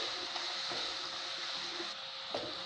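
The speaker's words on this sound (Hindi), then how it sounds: "मैंने फ्लेम को हाई रखा है ताकि हमारी प्याज जल्दी से अच्छे से फ्राई हो जाए।" Onions frying in hot oil over a high flame for Indian-style chicken rice, giving a steady, close hiss with faint scattered crackles and occasional clicks from a stirring spoon.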